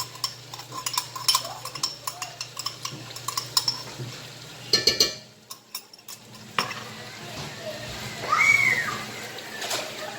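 Minced garlic gets stirred into chicken soup in a pot, a spoon scraping and tapping the metal with irregular clinks, close and fairly loud, with a faint sizzle and background noise.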